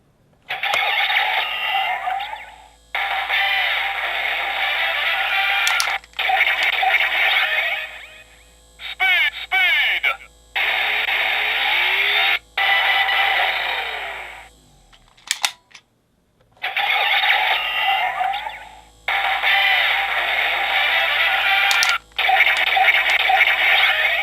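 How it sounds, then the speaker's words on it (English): A DX Drive Driver toy belt's electronic voice and revving whine play in repeated bursts, each phrase followed by echoing repeats that trail off between short pauses. "which will cause an echo effect in both the voice and the rev noise"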